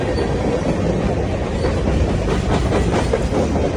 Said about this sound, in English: the train is passing through at 3:12 p.m.